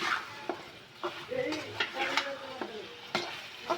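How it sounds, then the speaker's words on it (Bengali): A curry of potatoes, small chapila fish, eggplant and tomato sizzles in a pan while a spatula stirs it, with sharp scrapes and clinks against the metal every half second or so, close and fairly loud, and no speech. "আমি এখন তরকারি ভালো করে কষিয়ে নেব"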